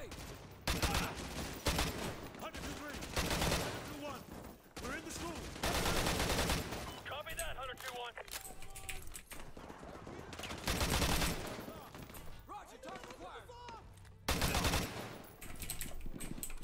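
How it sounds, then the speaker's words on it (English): Mini Uzi submachine gun fire in the Modern Warfare 2 campaign, with repeated loud rapid bursts separated by short pauses, over sparse talk and battle noise. "Mini Uzi."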